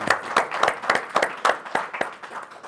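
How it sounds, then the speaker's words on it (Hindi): Rhythmic group clapping from a gathered audience at a spiritual ceremony, about a dozen evenly spaced claps in unison, fairly close and moderately loud. "हम सब ताली बजाते हैं"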